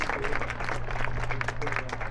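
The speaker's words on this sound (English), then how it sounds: "one final round of applause for our teachers" A crowd at a high school baseball game applauds teachers in a short burst of dense, steady clapping. The applause sits over a continuous low hum from the outdoor stadium sound system.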